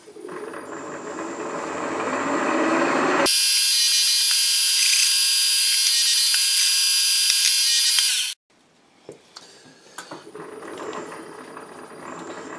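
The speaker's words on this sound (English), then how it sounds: "I'm just going to drill all these all the way through the one side" A loud, steady power drill whines for about five seconds drilling through a metal bushing, then cuts off, leaving quieter workshop clatter and faint scraping.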